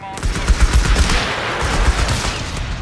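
Loud, dense gunfire from the video game Company of Heroes 3, with rapid machine-gun bursts and rifle shots overlapping into a continuous fusillade close by.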